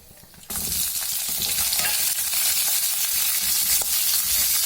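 Ten Guntur chillies and a large onion hit hot oil in a pan, a sudden loud sizzle after a brief quiet moment, then continuous close frying and stirring.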